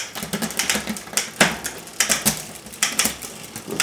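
A bicycle derailleur shifts gears with bursts of sharp clicking and rattling as the chain jumps across the sprockets, heard close and alone.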